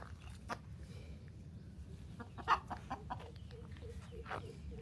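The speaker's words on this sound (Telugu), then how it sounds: "ఇవి జాతి పెట్టలు." Native breed hens on a farm cluck softly in short, scattered calls against quiet outdoor background noise, faint and some distance away.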